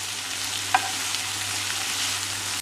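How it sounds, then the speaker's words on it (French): Sliced onion sautéing in olive oil in a sauté pan, a soft steady sizzle with a faint tap partway through, quiet and continuous. "dans une sauteuse avec un peu d'huile d'olive, je fais revenir mon oignon émincé"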